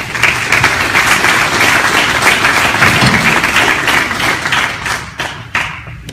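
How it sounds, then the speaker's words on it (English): An audience at a mayoral forum in Metropolis applauds for the mayor, with loud, full clapping that fades near the end into a few scattered claps. "I wish you all would give him a round of applause"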